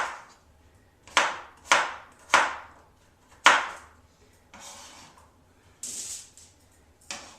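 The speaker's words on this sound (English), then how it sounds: "Keep dicing our potatoes here" Potatoes being diced with a knife on a cutting board for foil packet cooking: several sharp chopping strikes in an uneven rhythm, close and fairly loud, with quieter scraping and tapping between them.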